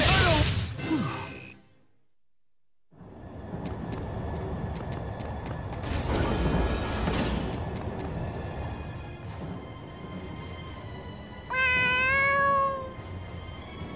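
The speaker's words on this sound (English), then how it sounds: "Is that your cat?" A cat meows several times, with a crash and whooshing sounds in between and a prolonged wavering meow near the end, close and fairly loud.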